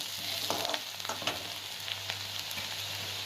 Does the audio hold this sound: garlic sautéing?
yes